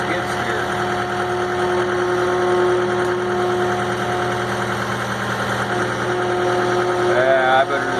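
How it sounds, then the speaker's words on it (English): A skid steer's engine running steadily at close range, a droning mechanical hum with rattling vibration that holds constant throughout, with a brief squeal near the end. "Trying to hold the camera and run the skid steer."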